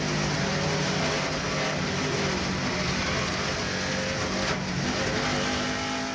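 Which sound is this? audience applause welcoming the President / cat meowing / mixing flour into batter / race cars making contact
race cars making contact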